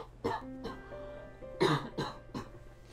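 A person coughs several times in short, separate bursts, close by and fairly quiet, with a brief throat-clearing between them and a faint steady hum in the background.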